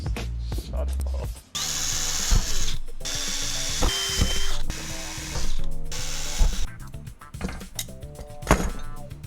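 Power drill boring into pipe in a workshop, several short whirring bursts separated by pauses, with clicks and mechanical rattles between them.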